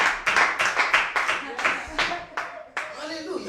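A church congregation claps to acclaim God, a quick run of sharp, loud, fairly rhythmic claps that loosens into scattered clapping near the end.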